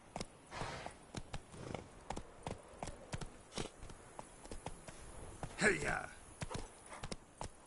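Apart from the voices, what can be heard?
horse galloping hooves in video game The Witcher 3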